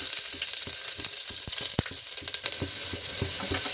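Garlic and onion sizzle steadily in hot oil in a pan, with a crackling, bubbling frying sound and occasional clinks and stirs close by.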